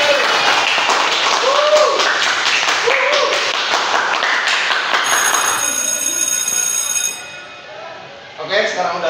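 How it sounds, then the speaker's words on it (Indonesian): Classroom students clap for a classmate's correct answer, bursts of close hand clapping mixed with voices, followed by a ringing school bell and then a brief quiet. "Mari beri tepuk tangan untuk Ajrun."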